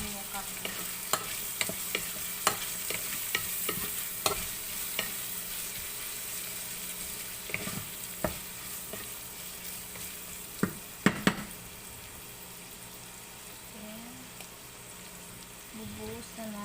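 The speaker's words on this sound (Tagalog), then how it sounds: "Saka ihahalo lang natin yung karne" Meat stirred into a pan of frying Bicol Express laing, with steady close sizzling under repeated scraping and tapping of the spoon, and a voice speaking briefly near the end.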